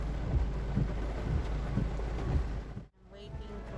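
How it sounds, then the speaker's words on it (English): Steady rain falls outdoors in Limassol, a dense even hiss with low rumbling and wind, briefly cutting out near the end before resuming. "It's raining."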